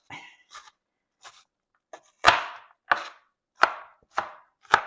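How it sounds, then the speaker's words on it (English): A knife cuts through onion on a board, a few light scrapes then five firm, evenly spaced chops ringing out close and loud. "Okay, so our onion's nice and chopped up."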